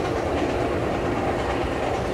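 Interior of a moving Amtrak passenger train, a loud, continuous rumble with rolling wheel clatter close around the listener and no voices.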